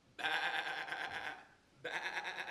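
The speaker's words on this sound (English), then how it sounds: "I met a sheep across the way, and what do you think the sheep did say?" A sheep gives two bleats, a long wavering cry and then a shorter one after a brief pause, clear and close against a quiet background.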